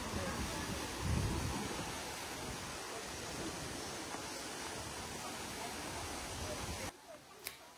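Broad, steady rushing roar of Jeongbang Waterfall on Jeju Island fills the scene at a distance, with crowd murmur mixed in, before cutting to a quieter stretch near the end.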